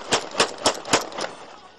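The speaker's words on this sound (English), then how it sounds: "filled the streets of Sirte with celebratory gunfire" A rapid burst of about five sharp gunshots fired in celebration in the streets of Sirte, evenly spaced and loud, ringing with a short outdoor echo and a faint trailing shot.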